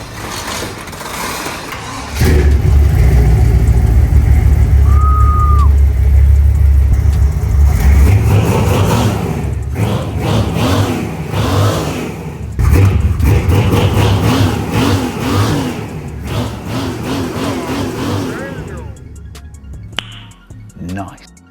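Turbocharged Buick engine revving hard, a loud rumble kicking in after two seconds with rising and falling rev sweeps, while people talk loudly over it and the engine note fades toward the end.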